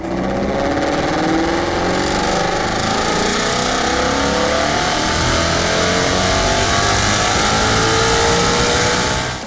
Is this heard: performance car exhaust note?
yes